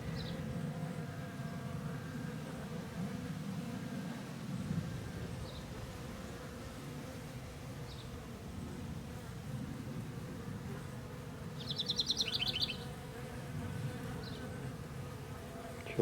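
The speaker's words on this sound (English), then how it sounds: "A lot of bees playing hooky from somebody's hive." A swarm of honeybees buzzes steadily around a hive box, a dense continuous drone with a few louder individual bees passing close by.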